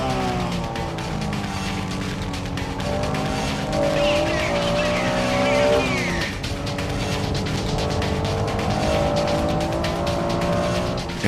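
Honda NSX-R race car accelerating hard out of a corner alongside a four-wheel-drive GTO and a Porsche 911 Carrera RSR, engines roaring loud and continuous with rising revs and a brief tire squeal, no talk.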